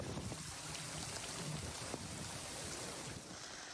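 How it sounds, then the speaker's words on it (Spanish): Violent sea surf pounding the Girona coast during a storm, a dense continuous roar of breaking waves and spray with heavy wind buffeting the microphone throughout. "Con esta virulencia irrumpía el mar en las costas de Girona"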